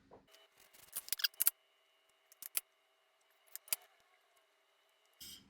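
Scissors snipping fresh garganelli pasta dough into squares, a scattered series of short, crisp cuts in small clusters separated by quiet gaps, close and fairly soft.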